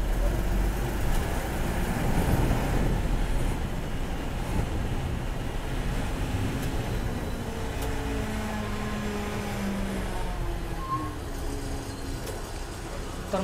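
A jammed Sunday road near Paud on the Pune–Tamhini route, crowded with cars and two-wheelers, heard from inside an MSRTC bus: a continuous low rumble of engines and traffic that stays steady throughout, with faint voices in the background.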